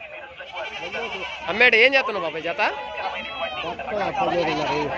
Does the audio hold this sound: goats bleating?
yes